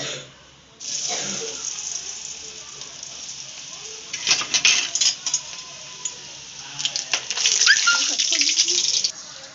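Potato strips frying in hot oil for French fries; a steady hiss and sizzle runs throughout, with bursts of louder bubbling crackle midway and near the end, close by.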